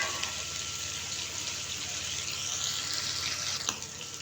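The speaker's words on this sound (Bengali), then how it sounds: "এখন আমি এগুলো ভেজে নিব।" Pangas fish pieces fry in hot oil in a pan, giving a steady broad sizzle throughout, with a brief clatter near the end.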